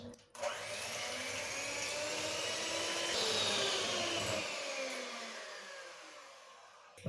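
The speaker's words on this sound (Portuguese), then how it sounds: "Estas natas estão bem consistentes e agora vou bater as natas." Electric mixer whipping thick cream for a condensed-milk dessert in a home kitchen, a steady loud whir starting abruptly and running several seconds before easing off, no talk.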